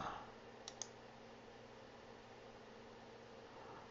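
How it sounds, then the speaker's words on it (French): Two quick computer mouse clicks sound close and faint early on, over a low steady hum of background noise, followed by quiet. "je clique pour voir les résultats"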